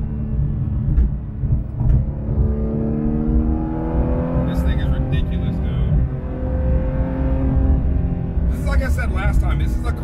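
A Miami Blue Porsche 911 GT3 RS accelerating hard, its engine note climbing through the revs, heard from inside the car as a loud, rising rumble mixed with road noise while someone talks over it.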